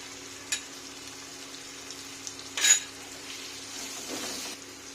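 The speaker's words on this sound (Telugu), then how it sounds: "ఇలా అల్లం వెల్లుల్లి పేస్ట్ మసాలా ఫ్రై అయ్యే వరకు హై ఫ్లేమ్లోనే పెట్టాలి." Ginger garlic paste and masala frying on high flame in a pan, a soft steady sizzle with a couple of brief utensil clinks, close but fairly quiet.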